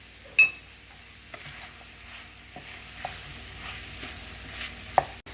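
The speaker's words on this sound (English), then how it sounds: "And just stir it." A spoon stirs gravy in a pot on the stove, soft scraping and occasional clinks against the metal over a low simmering sizzle, with no talking.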